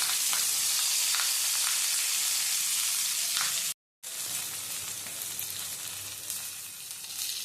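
Prawn paturi parcels sizzle loudly on a griddle, a constant bright frying hiss with a brief dropout midway, then the steady crackle resumes, no voices.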